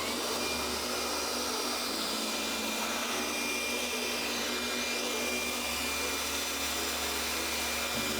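Full-size conventional blower blasting water droplets off a freshly washed car, a loud, steady, broadband roaring rush that runs without a break and stays close throughout.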